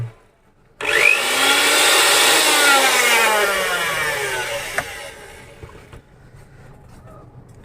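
A repaired household blender motor starts abruptly and runs with a steady, loud high-pitched whine that slowly winds down in pitch before cutting off, with no crackle of sparking.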